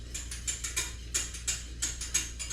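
Gravy is whisked in a pot for poutine: rapid rhythmic metallic clicking and swishing strokes, close and steady, with a low hum underneath and no talking.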